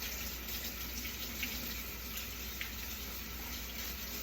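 Tap water runs steadily into a kitchen sink while a steel spatula is washed, a constant soft hiss and splash at low level with no talking.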